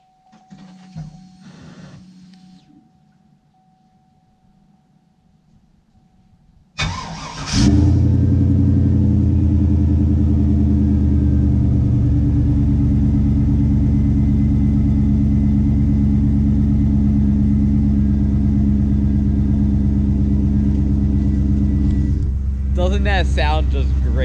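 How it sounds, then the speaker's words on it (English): A cold truck engine cranks and fires after several seconds of quiet, with a voice in the background early on, then settles into a loud, steady, rumbling idle that runs to the end. "why not just go for a cold start?"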